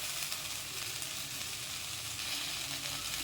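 Curry leaves and coriander frying in a pan of hot oil while mint chutney is made, giving a steady, close, crackling sizzle that runs throughout.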